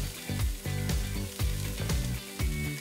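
Chopped onions, celery and carrots sizzle together in a pot for a vegan meatloaf, a steady close frying crackle with louder bursts recurring about every half second.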